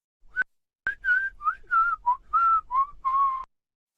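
Someone whistles a short, cheerful tune of about nine clear notes, close and alone, with brief gaps between phrases.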